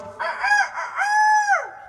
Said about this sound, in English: Listen to the cock crow